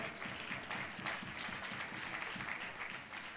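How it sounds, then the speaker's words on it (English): Women in an audience at a leadership lecture and award ceremony in Abuja clap in a steady, dense patter, moderately loud and fairly even throughout, with no talking. "it's the women that are clapping for me"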